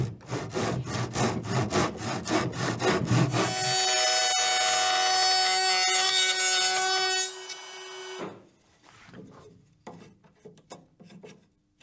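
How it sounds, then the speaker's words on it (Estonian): Hand saw crosscutting a tenon in wood for window restoration, with rapid rhythmic rasping strokes, then a sustained high whine, followed by scattered quieter strokes and pauses. "Nüüd Martin saeb tapis aega ristlõike."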